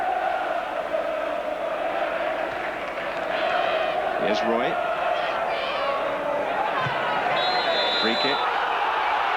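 Football crowd at a Nottingham Forest home match against Bayern Munich in a UEFA Cup quarter-final, a steady restless roar throughout with a few louder swells, under close commentary talk.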